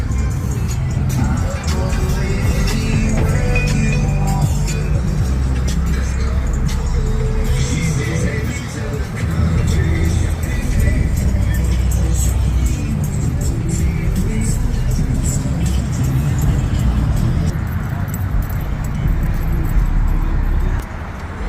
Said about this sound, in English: Got some slingshots coming in.